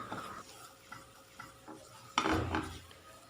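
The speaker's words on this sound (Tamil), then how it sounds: "இப்போ கைவிடாமல் நல்லா கலக்கிட்டே இருக்கணும், அடி பிடிக்கக்கூடாது." A milk mixture for malai bread rolls stirred in a pan on the stove: quiet rhythmic scraping strokes with a soft sizzle, ending in a louder scrape and clatter.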